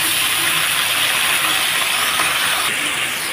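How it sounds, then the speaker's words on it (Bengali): Ridge gourd frying in oil in a pan, a loud continuous hissing sizzle that stays even and unbroken for the whole stretch. "তো দেখো ভাজতে ভাজতে সাইড দিয়ে বেশ সুন্দর তেল আসছে, ঝিঙাটা কিন্তু বেশ নেতে যাচ্ছে"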